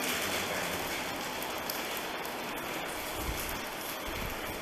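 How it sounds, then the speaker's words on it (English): Soft, steady rain patters on surfaces, a faint continuous hiss with occasional heavier drops, no voices. "And it is currently raining."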